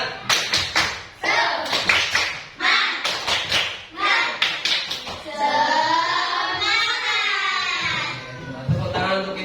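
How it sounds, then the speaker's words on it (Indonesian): A classroom of children performs a rhythmic spirit-clapping routine, bursts of sharp claps in patterned groups alternating with the class chanting along, loud and close. "Tepuk semangat seperti biasa ya. Yuk, tepuk semangat."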